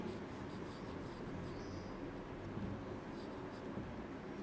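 Chalk scratches steadily across a classroom board as a teacher writes during a first-grade Urdu lesson, a continuous rubbing texture under a constant background hum.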